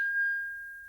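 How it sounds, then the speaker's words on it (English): The chess notification tone from Instagram rings as a single soft, pure ding that holds one steady pitch and slowly decays over about a second, heard on its own. "chess,"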